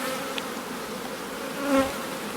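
Honey bees buzz steadily at an opened hive as frames are handled during queen rearing for an artificial swarm; a close, continuous drone hangs throughout, with brief louder passes of individual bees near the end.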